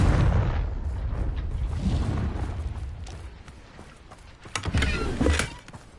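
A Confringo fire spell bursts in Hogwarts Legacy gameplay, heard as a loud broadband blast that rumbles and fades, then a second sharp explosive burst near the end. No speech is heard.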